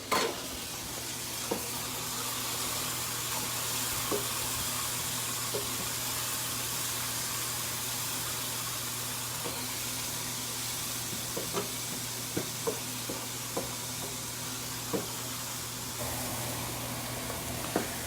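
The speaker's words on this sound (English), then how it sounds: "add about 3 cloves of garlic" Garlic cloves sizzle steadily in a hot pan for cheesy chili mac, a constant broadband crackle with occasional sharp pops and light spoon clicks, fairly close and with no talking.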